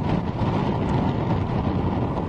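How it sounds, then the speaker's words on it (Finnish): Wind gusting across open frozen lake ice in winter, a dense, rumbling roar buffeting the microphone continuously with no pauses and no voices. "Varmaan toi tuuli pilaa tämän videon kuitenkin."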